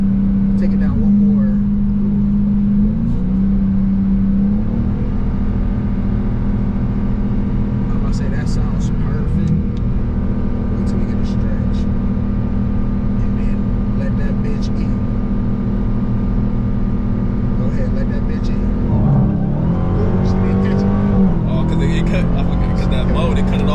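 A Dodge Hellcat Jailbreak with 717 hp drives under steady load, its engine droning loud and continuous, with pitch shifting at gear changes and brief revs near the start, middle and end, while people talk inside the car.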